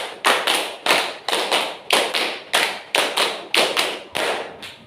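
A group claps a rhythm pattern together, sharp unison hand claps in short bursts separated by brief pauses, close and loud with no talking.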